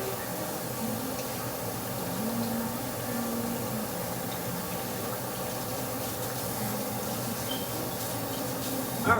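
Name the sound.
rinsing hands under running tap water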